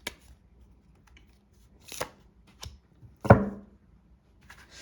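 Oracle cards are shuffled in a quiet room, with a few separate close riffling and snapping bursts spread across a mostly silent stretch, the loudest near the end.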